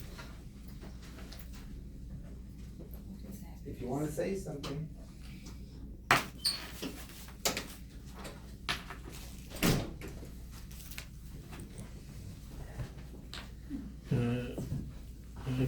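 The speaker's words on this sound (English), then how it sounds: "I'm just going to close the door" A door closes in an indoor room, giving a few sharp knocks and thuds that stand out between stretches of nearby talking.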